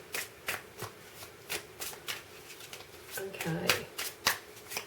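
A deck of small moon-themed tarot cards being shuffled by hand in repeated crisp riffles and slaps, close and clear, with someone briefly speaking partway through.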